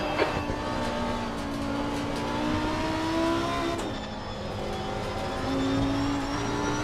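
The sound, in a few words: Lamborghini Huracan EVO2 GT3 engine, Assetto Corsa Competizione video game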